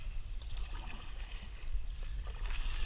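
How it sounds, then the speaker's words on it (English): Kayak paddled on a lake: steady low water churn and splashing from paddle strokes, fairly close, with soft rhythmic swells and no talking. "So I have to paddle back up."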